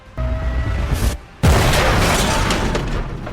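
A bomb blast in a lift in a film scene lands as a sudden loud boom after a short quiet gap, then rolls on as dense, noisy rumble and debris, with a steady mid-level sound bed beforehand.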